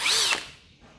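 A Hikoki 18V cordless drill set to hammer mode gives one short, close whirring burst that quickly dies away.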